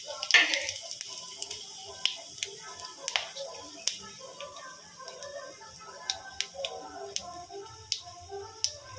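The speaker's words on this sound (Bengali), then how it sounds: "এর মধ্যে একটু আমি গরম মশলা, দুটো এলাচ, দুটো লবঙ্গ, একটা তেজপাতা, একটা দারচিনি আর একটু আস্ত জিরে ফোড়নে দিলাম।" Whole spices (cardamom, cloves, bay leaf, cinnamon and cumin seeds) crackle and spit in hot white oil in a wok, with sharp scattered pops over a faint steady sizzle and a voice speaking now and then.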